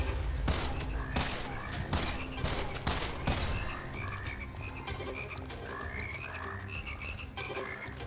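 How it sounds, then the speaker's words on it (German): Many frogs croak in a video game dungeon in Immortal Redneck, a dense chorus of rapid croaks mixed with sharp thuds and bursts, fairly loud and continuous. "ich höre ganz viele Frösche"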